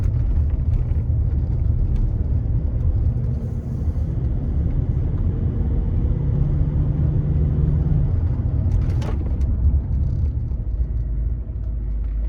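A Range Rover with freshly bedded-in brake pads rolls along and brakes lightly to a standstill, a steady close low road rumble and engine drone throughout, no voices.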